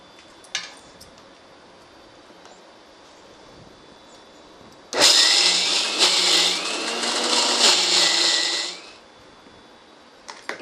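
A mixer grinder whirs loudly for about four seconds while it grinds pirandai chutney ingredients with dal, starting abruptly and then cutting off, with quiet stretches on either side.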